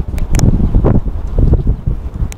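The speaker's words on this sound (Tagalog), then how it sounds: "napakalakas kasi ng hangin" Steady blustery wind buffets the microphone, a continuous low rumbling roar with rustling gusts and no speech.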